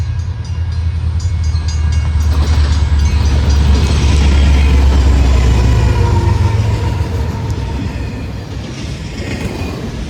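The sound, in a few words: freight train passing by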